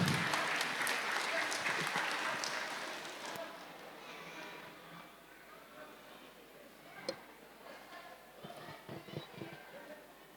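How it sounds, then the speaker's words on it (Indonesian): Audience applause at an inheritance-law workshop in Probolinggo starts loud and full, then thins and fades into a quiet room, with a few scattered claps and knocks near the end. "Tepuk tangan Bapak Ibu."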